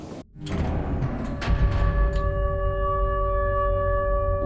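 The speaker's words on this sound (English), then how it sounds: "Why'd the train stop?" Train rolling along in the video game Garten of Banban 8, a steady low rumble with sustained tonal hums and brief clanks, gradually settling as if slowing to a stop; no voices.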